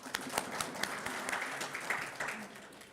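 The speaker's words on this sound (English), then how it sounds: "Round of applause for Mamzo, guys" An audience at a student council inauguration ceremony gives a round of applause, a faint, continuous stream of clapping with some sharper individual claps standing out.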